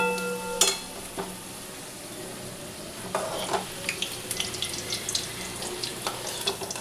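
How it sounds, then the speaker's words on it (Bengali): Potato pieces frying in a pan for a chicken egg biryani make a soft, even sizzle with scattered crackles and light clinks, fairly faint and without talk. "আলুটা কিন্তু আমার ভাজা হয়ে গেছে।"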